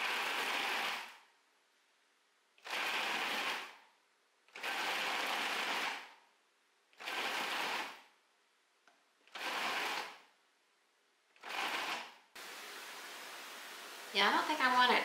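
A food processor grinds red and orange peppers for relish in six short pulses of whirring, each about a second long and separated by silences, ending with a steadier low hiss and some handling clatter.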